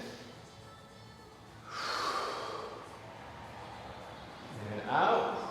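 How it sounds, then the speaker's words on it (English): A person draws two deep, audible breaths during a neck and shoulder stretch, each a soft, close, breathy rush separated by a quiet pause. "And breathe in."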